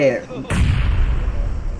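A sudden heavy grenade explosion boom in PUBG Mobile bursts in after a short burst of talk, followed by a long rumbling, crackling tail that stays loud.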